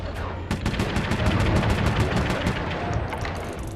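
Rapid automatic gunfire in Sly 3: Honor Among Thieves rattles out in a fast, evenly spaced burst lasting several seconds, loud and close, briefly pausing before resuming.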